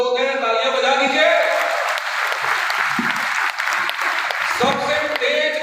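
A crowd at a network marketing talk in Sultanpur, Uttar Pradesh, breaks into applause, the clapping blending with loud amplified music or cheering voices that run over it for the whole stretch.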